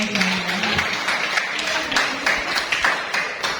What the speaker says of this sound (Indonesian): Itu saja Pak Iwan, tepuk tangan lagi dong.